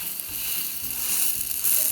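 Omelette sizzling in oil in a pan over a medium-high flame, a continuous bright crackle that holds steady and swells slightly toward the end.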